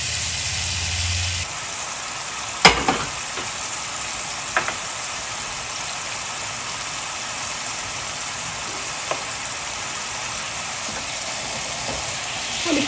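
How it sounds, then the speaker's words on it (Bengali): Masala of turmeric and coriander powder fries in a pan with a low steady sizzle under a constant background hum, with occasional sharp knocks and scrapes from stirring. "মশলাটাকে খুব ভালো করে আমি একটু কষিয়ে নিই।"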